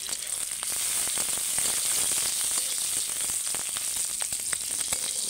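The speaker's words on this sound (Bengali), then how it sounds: "এবার টমেটোটা দিয়ে দেবো ওতে।" Boiled tomato tipped into browned, fried onions in a hot pan, setting off a loud, steady sizzle with crackling pops and some faint stirring clatter, no voices.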